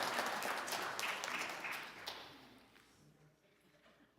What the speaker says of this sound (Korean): 자, 한번 크게 한번 박수 한번 쳐주시기 바랍니다.